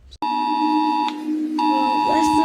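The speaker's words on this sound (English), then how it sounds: "that's the simple alarm that I love" An emergency alert system alarm tone blares loud and close: a steady, harsh multi-tone drone that breaks off briefly partway through, then resumes just as loud.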